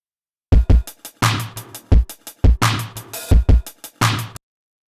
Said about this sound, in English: I have 3 stereo tracks of the kick and the hi-hat and the snare from that loop